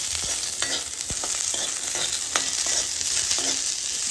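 Freshly shelled peas fry in hot oil in a pan over low heat, a steady close sizzle with scattered sharp pops and spoon-scraping stirs, no voices.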